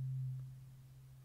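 A synthesizer tone shifts from a filtered triangle wave toward a near-pure sine wave; a low, steady hum that is briefly stronger, then settles quieter and holds alone without any voice.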